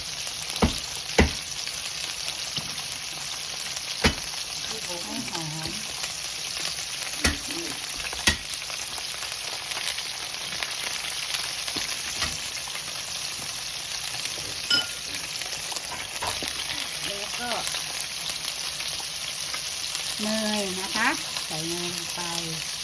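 Garlic sizzles steadily in a pan while a salmon steak sauce is being made, with a continuous crackling fry that is occasionally broken by the clink and scrape of a utensil stirring. A faint voice speaks briefly in places.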